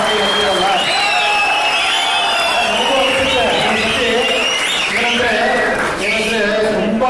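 A large audience at a Kannada film pre-release event for "UI" claps and cheers in a steady, dense wash, with shrill whistles rising above it throughout.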